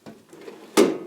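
A wooden drawer in a lathe toolbox slides open with a soft scrape, then a louder knock as it reaches its stop.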